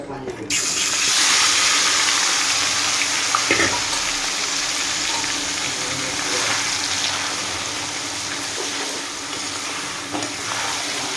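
Steady broadband sizzle of meat frying in hot oil, loud and close, with a brief clatter partway through and no talking.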